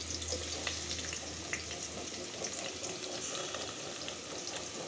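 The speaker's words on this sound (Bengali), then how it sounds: "এখন পেঁয়াজ দিয়ে দিব।" Oil sizzling in a pan with garam masala and bay leaf as onions go in, a steady soft crackle and hiss at low level throughout, with a faint low hum underneath.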